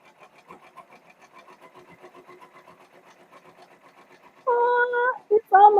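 A two-head, 15-needle embroidery machine stitching a unicorn horn jack-o'-lantern design on a T-shirt, a quiet fast mechanical patter with even rhythm that gives way to a nearby voice near the end.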